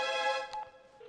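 A telephone tone sounds during a call to parents, a steady electronic ring that breaks off briefly and returns as a quieter pure tone.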